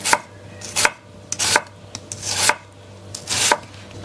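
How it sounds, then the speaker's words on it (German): A knife chops a peeled vegetable, likely an onion, into rings and half rings on a cutting board, with five or six crisp, distinct cuts spaced unevenly and heard close up without talk. "schneiden uns hier auch gleich Ringe bzw. Halbringe"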